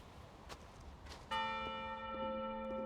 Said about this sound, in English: I think that bell might be a clue.